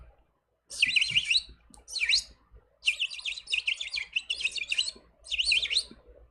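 Birds chirp and sing in repeated bright bursts of rapid tweeting calls, close and fairly loud, separated by short pauses, with no talking.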